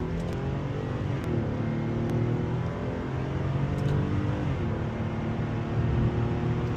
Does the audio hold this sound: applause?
no